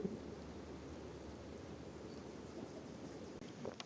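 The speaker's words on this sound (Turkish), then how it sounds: "Yağmur atıyor biraz." Steady light rain patters continuously in a forest, a soft even hiss with fine drop texture, close by and unbroken throughout.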